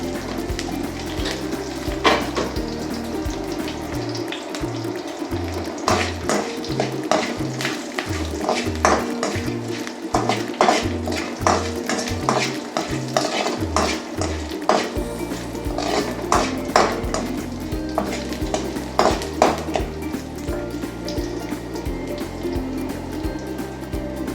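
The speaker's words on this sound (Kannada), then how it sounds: "ಕಾಯಿ ಸಾಸಿವೆ ಚಟಪಟ ಅಂದ ತಕ್ಷಣ ಕಡಲೆಬೇಳೆ ಉದ್ದಿನಬೇಳೆ ಬ್ರೌನ್ ಆಗುತ್ತೆ" Mustard seeds, chana dal and urad dal crackling in hot oil in a pan for a cabbage palya tempering, a continuous sizzle with rapid pops and a stirring clatter.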